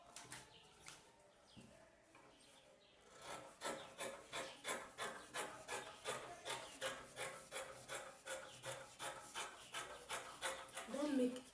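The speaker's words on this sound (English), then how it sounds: "Then you cut it out." Scissors cutting out a fabric pattern for a straight skirt, a close, even series of rhythmic snipping and rasping strokes, about two per second, after a quieter start with faint rustling.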